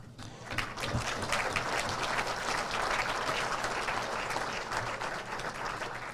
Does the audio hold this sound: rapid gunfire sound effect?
no